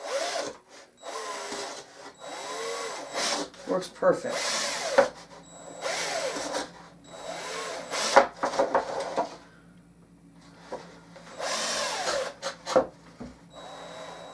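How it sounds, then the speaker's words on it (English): Short bursts of a small power drill whirring, several times in a row, with brief talking in between. "I'm going to put a couple little drill holes in here."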